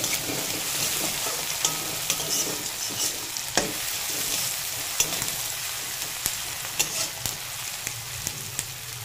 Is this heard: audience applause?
no